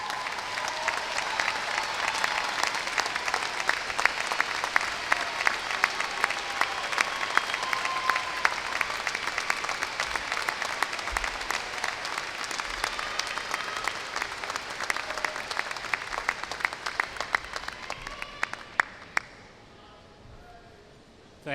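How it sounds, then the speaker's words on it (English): A large commencement audience in a university ceremony hall applauds the graduates' families and sponsors, a long, steady wash of dense clapping that holds for about twenty seconds before tapering off quickly at the end. "so that our graduates may show their appreciation by a round of applause."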